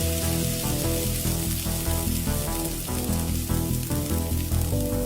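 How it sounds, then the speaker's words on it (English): Hot rendered fat sizzles on cow's head meat, a steady loud crackling fry with a tonal hum running underneath throughout. "Even though it was nice and sizzling"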